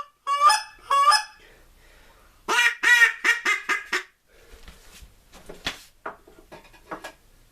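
A hand-blown goose call used while turkey hunting gives two loud honks, then a rapid run of five or six honking notes and a scatter of softer, shorter clucks, all close and with no talk.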